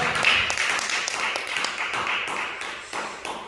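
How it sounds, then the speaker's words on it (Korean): A church congregation clapping during a revival service, a crisp burst of many hands that gradually thins and softens over a few seconds. "영광의 박수를 드리겠습니다"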